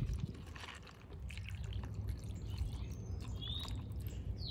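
Water pours steadily over noodles with a soft, continuous trickling and splashing, close by and fairly quiet, with no talking.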